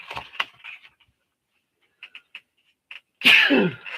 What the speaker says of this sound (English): I'm going to sneeze, so I got to look the other way.